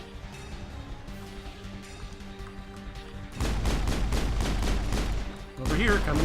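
Rapid bursts of Mass Effect video game gunfire erupt loud and dense in the second half, following a quieter stretch of ambient game sound, with brief low-level voice activity.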